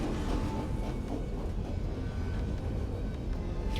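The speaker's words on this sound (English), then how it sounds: "Cargo trains are not that common where I live" A cargo train rumbles past in Night in the Woods, a video game. The low, steady rolling drone carries faint rhythmic clacks and stays at an even level for the whole clip.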